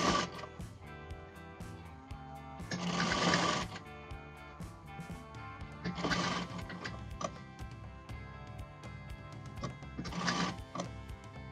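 A sewing machine stitches a hoodie dress in steady rhythmic bursts of fast mechanical clatter, three louder runs spaced a few seconds apart over a continuous ticking background.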